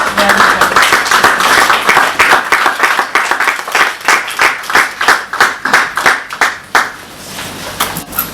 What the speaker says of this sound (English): please give a round of applause for our speakers